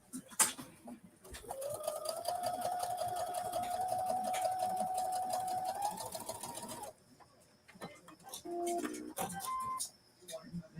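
A sewing machine stitches a straight seam in a near, steady mechanical whir for about five seconds, then stops, while a voice talks and pigeons coo faintly in the background.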